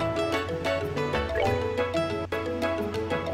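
Watery spell effect in the video game Trails in the Sky, with dripping, liquid plinks and trickling tones layered over continuous game music at moderate loudness.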